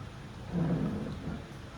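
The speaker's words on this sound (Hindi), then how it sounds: "बहुत तेज़ हो रही है इस टाइम बारिश, और बिजली भी बहुत तेज़ कड़क रही है" Thunder rumbles low and brief through heavy nighttime rain, a short swelling boom rising over the steady hiss of the downpour.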